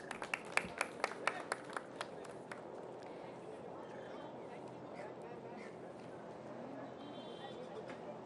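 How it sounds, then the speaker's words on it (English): Audience applause at a launch event for an emergency response system and helpline vehicle flag-off, a burst of claps in the opening seconds that thins out into a steady low murmur of the crowd. "Please give him a huge round of applause."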